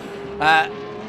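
A vintage race car passes on the Circuit of the Americas track during an SVRA event, a brief rising-and-falling engine whine that peaks in the middle and fades, with a steady drone behind it.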